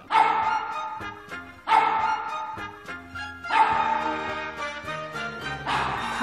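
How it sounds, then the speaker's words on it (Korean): A performing pet dog at the Korean Central Zoo in Pyongyang barks exactly four times, each a loud, close bark with a short ringing tail, evenly spaced about two seconds apart. "강아지가 정확히 4번 짖는데요"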